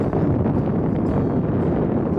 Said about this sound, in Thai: ก่อนกลับก็มารับลมหนาวที่ริมโขงนะครับผม